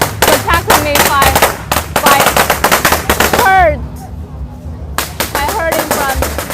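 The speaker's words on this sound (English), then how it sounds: "You never know where will the next firecracker explode." Rapid strings of firecrackers bang and crackle loudly at a Spring Festival god parade in China, dense popping bursts with a brief lull before another close volley erupts, crowd voices mixed beneath.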